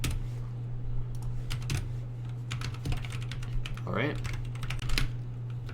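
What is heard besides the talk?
typing on a computer keyboard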